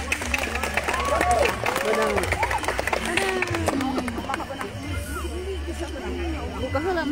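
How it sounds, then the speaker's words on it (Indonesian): An audience at an Indonesian tourism village award event applauds, steady clapping mixed with crowd chatter and a voice talking over it. "kita berikan tepuk tangan yang meriah."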